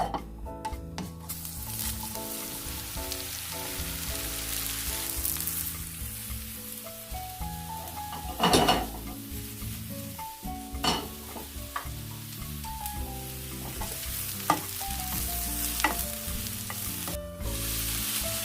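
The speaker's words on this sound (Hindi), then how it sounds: "ऑयल में इसको फ्राई करेंगे" Mushrooms fry in hot oil and are stirred in a pan for a mushroom coconut curry, with a steady sizzle, scattered spatula scrapes and clinks, and one louder clatter midway, close and continuous with no talk.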